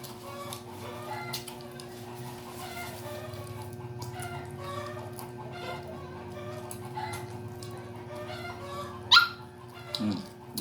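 A small dog barks a few times near the end, with sharp yips standing out over a quiet outdoor background where chickens cluck faintly.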